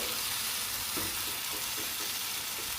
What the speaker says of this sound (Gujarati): આ રીતે આપણે ચમચો ભરીને ખીરું લેશું અને નાખી દઈશું